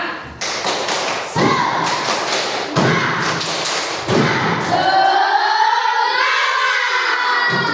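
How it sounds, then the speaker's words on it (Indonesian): A classroom of students claps the rhythmic tepuk semangat pattern together, sharp group claps landing in short bursts, then shouting voices join and a loud chanted cry rises over the claps at the end. "Sekarang biar lebih semangat lagi, tepuk semangat."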